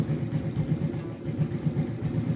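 A New Smash motorcycle engine idles with a low, pulsing thump, running steadily and close by as it warms up after a morning start.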